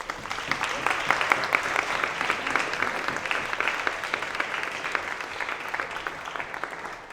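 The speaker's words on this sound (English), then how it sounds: "Can we have a round of applause for Kabir?" Audience applause for a student candidate at a students' union politics question time in Cardiff, a steady crowd of many hands clapping throughout at a fairly even level, tapering slightly near the end.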